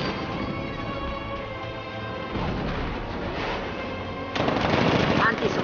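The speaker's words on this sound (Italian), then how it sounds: "Cannone da 60 mm operativo." An armoured vehicle's 60 mm cannon fires in the video game Batman: Arkham Knight, a dense, loud run of rapid blasts with no break that grows heavier toward the end.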